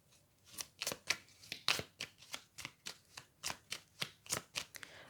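Tarot cards are shuffled in a brisk, even rhythm of about fifteen crisp riffling bursts, each a short papery flutter. The sound is close and faint, with no talking over it.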